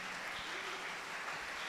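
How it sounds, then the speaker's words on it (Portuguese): Brief applause in a church congregation praising the Lord, a steady wash of clapping lasting under two seconds at moderate level. "Aplauda o Senhor"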